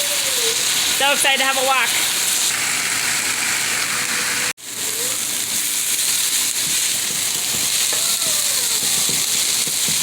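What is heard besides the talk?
steak browning and sizzling in a pan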